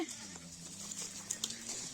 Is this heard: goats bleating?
yes